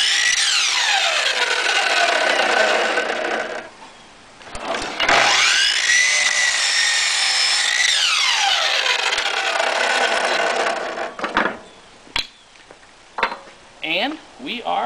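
A power saw cuts a bevel into a small piece of wood, whining loudly in two long passes with a brief pause between, then some short knocks and clatter as the piece is handled.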